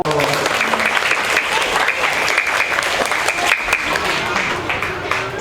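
Applause at a school award ceremony, a dense, loud crowd of hands clapping continuously throughout, with a voice speaking over it.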